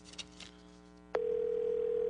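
A telephone call to Homeland Security rings out as a loud, steady tone that begins abruptly after a brief stretch of faint background talk and holds unbroken to the end.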